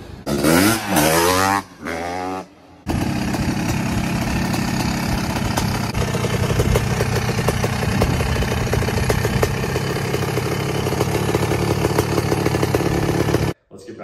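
Custom big-bore trike built from a Suzuki RMZ 450 frame fitted with a Honda CRF 500 engine, running loud and steady at close range for about eleven seconds after a few seconds of talk.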